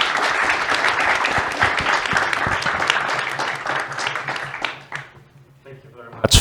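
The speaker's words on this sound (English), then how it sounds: "We give everyone give the panel a round of applause." An audience at a banking and fintech panel event gives a round of applause, dense clapping for several seconds that tapers off into quiet room tone.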